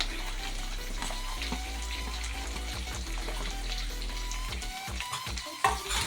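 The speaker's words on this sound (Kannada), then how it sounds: "ಸೇರಿಸಿಕೊಂಡು ಇವುಗಳು ಬೆನೆಯುವವರೆಗೂ ಫ್ರೈ ಮಾಡಬೇಕು" Cut vegetables with ginger paste and curry leaves frying in a pan for vegetable pulao, a steady sizzle with occasional stirring clinks and scrapes, fairly close and continuous throughout.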